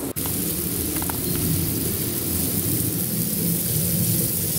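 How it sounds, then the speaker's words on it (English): Military jets from a nearby airbase roar overhead as a broad, continuous rumbling wash of distant engine noise, steady and fairly loud, with a brief knock at the start and no speech. "it's not, that's the jets from the local airbase."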